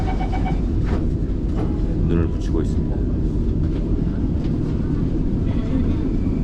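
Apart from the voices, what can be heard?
subway train interior during commute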